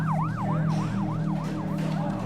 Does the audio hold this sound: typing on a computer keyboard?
no